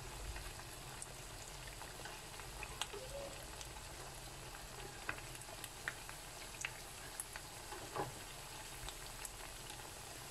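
Steady sizzling and crackling of potato fritters frying in hot oil, fairly quiet, with scattered small pops and no voices.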